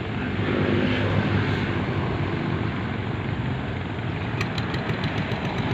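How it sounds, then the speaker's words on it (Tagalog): A continuous rough boat engine rumble with broadband noise, steady throughout, running nearby in open air. "Aanda rin na naman yung kanyang makina ng bangka."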